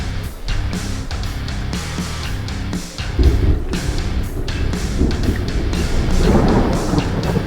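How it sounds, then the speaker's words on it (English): Thunder in the video game American Truck Simulator rolls in heavy, continuous rumbles with a louder crack midway, mixed with wind and rain noise and no talking. "Thunder, like you've seen it a million times."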